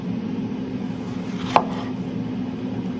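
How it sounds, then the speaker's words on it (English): A knife cuts through a plantain on a board in a home kitchen, a single crisp slice standing out briefly over a steady low background hum. "slice this plantain"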